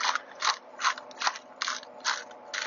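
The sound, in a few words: seasoning grinder grinding garlic herb seasoning into pan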